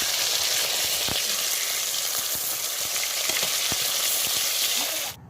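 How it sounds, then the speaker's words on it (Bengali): Fish pieces fry in hot oil with a loud, close, continuous sizzle, broken by intermittent spatter pops and ladle taps, until it cuts off abruptly at the end with a brief burst. No speech. "এবার এক একটা করে মাছের পিস দিয়ে দেবো এবং ভালোভাবে ভেজে নেব"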